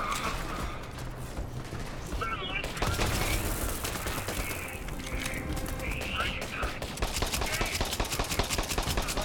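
Rapid gunfire from a weapon in the video game Borderlands 3, a dense, sustained fusillade of bursts with mechanical clatter, loud and continuous across the whole stretch, with game effects and some voice mixed in.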